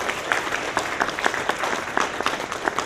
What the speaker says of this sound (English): can we give another big round of applause to Sue Abderholden for all of her work at the Capitol?